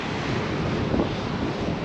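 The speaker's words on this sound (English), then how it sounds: "So windy that the sand hitting my legs is kind of painful, but this is a beautiful beach" Strong wind roars and buffets the microphone over steady surf breaking on a sandy beach on Cape Verde, a continuous loud rush with no speech.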